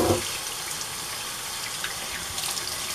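Tap water running steadily into a porcelain dish being rinsed in a sink, a close, even rushing flow with faint splashes throughout.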